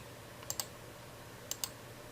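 Two pairs of quick, soft computer mouse clicks, each pair a fraction of a second apart, sounding close against a quiet room background with no talk.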